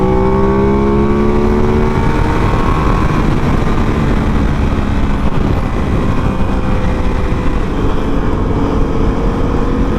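Aprilia RS660 Limited Edition motorcycle riding on a group ride with hard gear shifts, a loud steady engine drone with rising and falling pitch sweeps as the rider works through the gears, continuous throughout.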